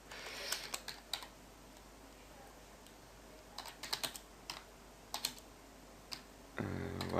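Computer keyboard typing in short irregular bursts of light clicks with pauses between them, close and quiet, ending in a brief louder shuffle.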